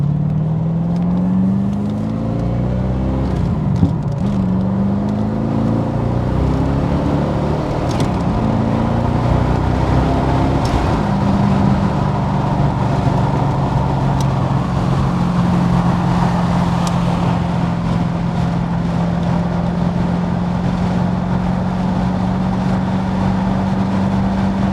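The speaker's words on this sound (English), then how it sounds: "It's got a nice exhaust on it." A twin-turbo Callaway C4 Corvette engine hums and rumbles steadily from inside the cabin, rising and falling in pitch as it accelerates and shifts gears.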